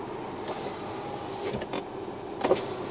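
A car's electric window motor whirs in a few short bursts at a traffic police stop in Lviv, against a steady low background hum with no talking.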